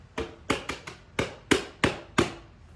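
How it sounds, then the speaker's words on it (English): Seven sharp hand taps on a drum, some on the head and some on the rim or shell, spaced unevenly and ringing briefly, with no voices. "There are lots of different ways you can tap on drums"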